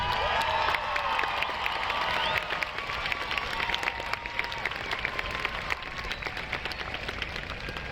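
Sustained applause for the graduating class of 2022 at a commencement ceremony: a large crowd claps densely and steadily, with scattered cheers and whistles, loudest at the start and then settling to an even roar.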